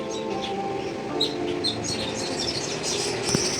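A talking myna bird gives a few bright chirps and whistled calls close by, short and irregular over a steady background hiss, with no talking.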